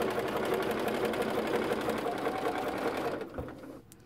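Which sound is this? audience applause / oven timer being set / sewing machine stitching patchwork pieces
sewing machine stitching patchwork pieces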